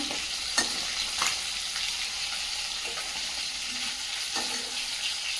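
Small fish fry in hot oil with a constant, busy sizzle and crackle, broken by a few sharper spits and stirring clatters, close and fairly loud with no talking.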